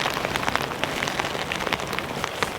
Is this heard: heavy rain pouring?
yes